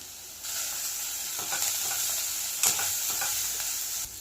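Masala sizzling and frying in a pan for beetroot rice, with a steady hiss and a few scraping stirs and a clatter of the spoon, close and moderately quiet.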